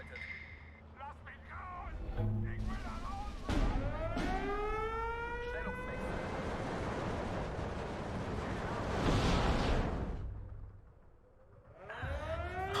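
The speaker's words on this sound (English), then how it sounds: "There's a lot of enemy artillery now." Enemy artillery in the Steel Division 2 wargame: loud shells whistle in falling pitch one after another, running into a continuous rumble of impacts, with a short lull near the end before more whistling starts.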